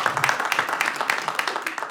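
A stand-up comedy audience claps steadily at a show, a dense continuous patter of many hands with a voice faintly mixed in.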